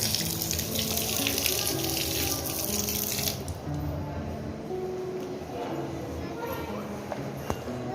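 Water runs steadily from a tap at a temple as feet are washed before entering, with people talking nearby over the splashing flow.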